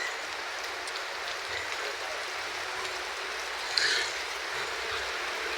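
Heavy rain falling steadily around a house, a constant soft hiss of drops on surfaces with no break, fairly faint and even throughout.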